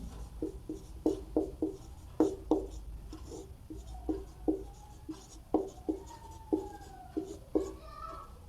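Handwriting on paper during a maths lesson: a series of short scratchy pen strokes in an irregular rhythm, close and fairly quiet, with a faint low hum underneath and no talk.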